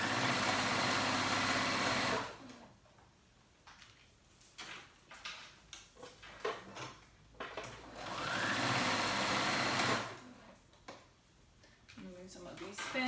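Sewing machine stitching all the way around a dress neckline, running in two sustained, steady bursts separated by a stretch of close-up talk and fabric handling.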